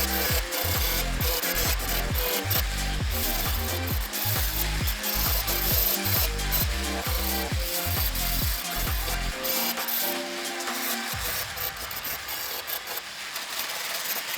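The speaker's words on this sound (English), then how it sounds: "let's grind away the weldings from this footboard and see how it's looking" An angle grinder works on welds on a motorcycle footboard during a custom body restoration, with loud, rhythmic pulsing strokes of metal grinding for most of the stretch, then a steadier abrasive hiss near the end.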